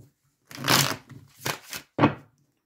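Tarot and oracle cards being shuffled for a reading, three or four short papery riffling bursts, close and distinct, with silence between them.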